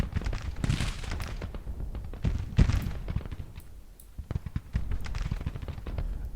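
Booming artillery fire in Grand Tactician: The Civil War, a strategy game, with repeated loud cannon blasts and rumbling reports in quick irregular succession, some near and some distant.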